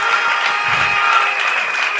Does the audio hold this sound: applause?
yes